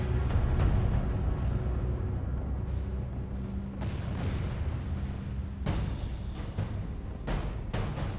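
Cannons fire in the video game Medieval Britannia, with heavy booms rolling over a constant battle din and a sharp, loud blast late on, several shots in all.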